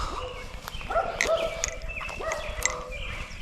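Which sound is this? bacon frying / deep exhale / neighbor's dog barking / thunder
neighbor's dog barking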